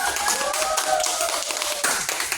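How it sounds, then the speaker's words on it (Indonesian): A classroom gives a short round of applause for a student, quick scattered claps at moderate level with a faint tone and background noise beneath. "tepuk tangan untuk dia dulu"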